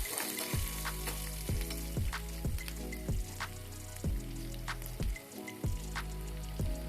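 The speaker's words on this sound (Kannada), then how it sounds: "ನಂತರ ಕಟ್ ಮಾಡಿಕೊಂಡ ಈರುಳ್ಳಿಯನ್ನು ಹಾಕಿಕೊಳ್ಳಿ. ಮತ್ತು ಕಟ್ ಮಾಡಿಕೊಂಡಿರುವ ಹಸಿಮೆಣಸನ್ನು ಹಾಕಿಕೊಳ್ಳಿ." Onions and green chilies fry in a pan with a soft, constant sizzle, broken by regular stirring strokes that scrape and tap about once a second.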